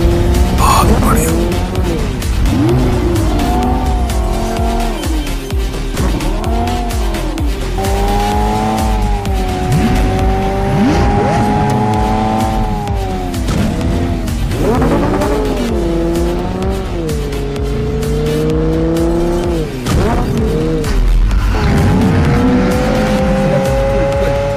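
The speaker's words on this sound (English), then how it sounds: "Full speed and then handbrake." Racing car in the BGMI mobile game driven at full speed, its engine droning loudly and steadily with rising and falling pitch, then tires squealing and skidding as the handbrake is pulled.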